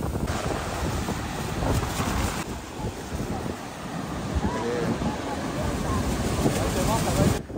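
A tour boat at Niagara pushes through water with constant splashing spray and gusting wind buffeting the microphone, while people talk over the noise.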